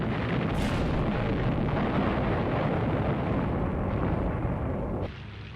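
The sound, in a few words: WWII Japanese Zero fighters strafing gunfire, documentary sound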